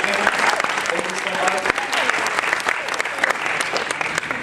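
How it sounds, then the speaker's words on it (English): An audience at a town hall applauds a mariachi band, with sustained crowd clapping and scattered cheers or voices mixed in, staying loud and even from start to finish. "So to our mariachi, let's give them a round of applause, because they're amazing."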